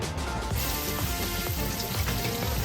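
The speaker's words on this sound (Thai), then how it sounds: "เดี๋ยวเรามาดูวิธีผัดกันครับ" Minced pork stir-fried with mackerel in a pan, a loud continuous close sizzle with a rustling, crackling texture.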